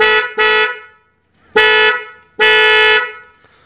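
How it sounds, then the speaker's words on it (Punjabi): A loud, close Ford 3600 tractor horn blares in four bursts: two short toots, then two longer blasts, with brief silences between. "ਮੈਂ ਇੱਕ ਵਾਰ ਆਵਾਜ਼ ਸੁਣਾਉਣਾ ਤੁਹਾਨੂੰ ਆਪਣੇ ਵਾਲੇ ਫੋਰਡ ਤੇ ਜਿਹੜੇ ਹਾਰਨ ਲੱਗੇ ਹੋਏ ਨੇ"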